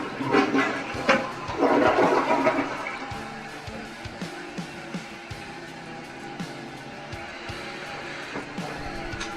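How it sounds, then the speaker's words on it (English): A newly installed toilet flushes with a loud rushing surge of water that fades into a quieter trickle and refill, nearby and with no talking. "Go ahead and give it a flush."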